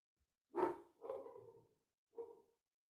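Dogs barking outside a studio whose door is open, three separate barks spread over a few seconds, somewhat distant and moderately loud, with no talk.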